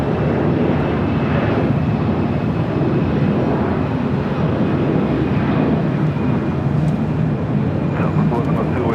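A large aircraft back-taxis on a runway at Los Angeles LAX airport, its engines a loud, steady, broadband roar throughout, with radio voices faintly mixed in.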